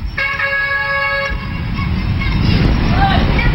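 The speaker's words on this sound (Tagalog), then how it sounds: "kahit pa binubusinahan na sila ng mga dumadaan" Vehicle horns honk repeatedly on a busy Sampaloc, Manila street as passing cars nearly brush children running in the road, sustained toots over steady traffic rumble before giving way to louder engine noise.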